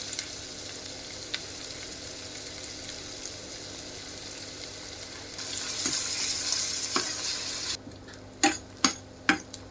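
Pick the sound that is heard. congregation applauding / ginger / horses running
ginger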